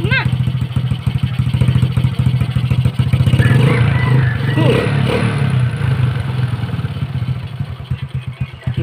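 Motorcycle engine running with a steady, rapid chugging pulse, close and loud throughout, with people talking over it.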